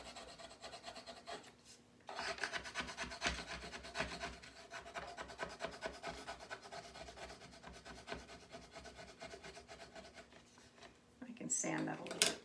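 A scraper rubs and smooths paste across a board in steady, rasping strokes at close range. The scraping pauses briefly near the start, and a voice speaks over parts of it.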